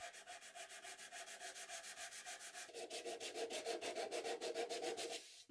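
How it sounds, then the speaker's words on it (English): Steady back-and-forth sanding of an assembled walnut small-parts organizer, rounding over its corners; rhythmic rubbing strokes, close and fairly loud, growing slightly stronger midway, with no talking. "With all the assembly done, I can get the final sanding done and round over all the corners that I want rounded over."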